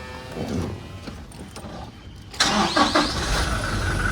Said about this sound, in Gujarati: તો સેલ મારી પહેલાં તો થોડી વાર ગરમ થવા દઈએ પછી નીકળીએ